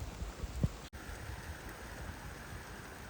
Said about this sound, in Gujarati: વરસાદ તો જોવો ભાઈ ગજબનો